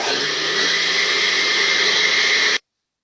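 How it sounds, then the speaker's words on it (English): A blender whirs loudly and steadily while mixing lemon juice, then stops abruptly just before the end. "in the blender, it is necessary to open the blender and put the lemon juice inside it and mix it"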